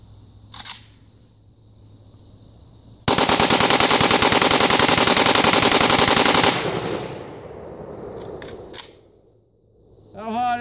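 A full-auto AK-47 fed from a Chinese drum magazine fires one long continuous burst of about three and a half seconds, loud and rapid, with brief bits of talk before and after.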